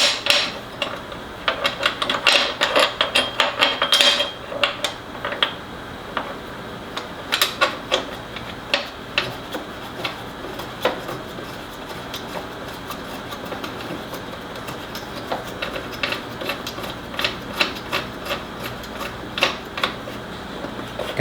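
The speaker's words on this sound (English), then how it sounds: "you just screw them all the way down until they are tight to where the router does not move" Screws being driven tight by hand to mount a router in a Festool router table, a close run of dry clicks and small ratcheting taps in irregular bursts, busiest at the start and again midway.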